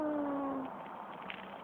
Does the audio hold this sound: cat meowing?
yes